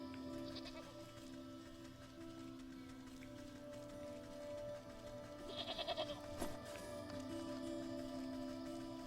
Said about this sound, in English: Yes, Billy Goat, I hear you.